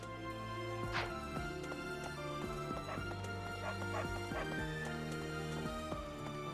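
Dog barking in the video game Fire Emblem: Three Houses: a few sharp barks near the start, set over steady game music with soft tones and no talking.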